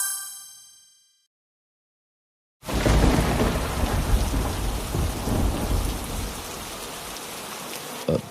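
A short run of bright chime-like dings fades to silence, then a cartoon thunderstorm bursts in with heavy, rushing rain and deep rumbling thunder that carries on steadily.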